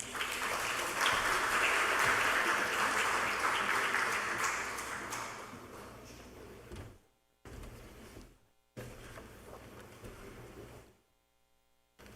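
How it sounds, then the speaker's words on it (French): Applause from an audience at an official ceremony in French Polynesia, a sustained wash of clapping that gradually fades, followed by brief bursts of clapping separated by short silences. "Sous vos applaudissements."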